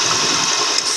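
A Suzuki Mehran car engine idles smoothly after carburetor tuning, a steady close-up rumble that holds an even pace without any talk.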